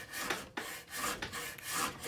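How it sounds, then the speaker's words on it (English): A Stanley kerfing plane is pushed through a pine board, giving close, rhythmic raspy scraping strokes of wood being cut, about four passes with brief breaks. "I need to start forward rather than back here because as it cuts, it'll fill the kerf"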